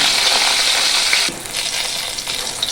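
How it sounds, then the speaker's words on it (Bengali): Eggplant pieces fry in hot oil at close range, a loud continuous sizzle that briefly drops and then carries on crackling. "এইভাবে বেগুনগুলোকে আস্তে করে হালকা করে ভেজে লাল লাল করে তুলে নেব।"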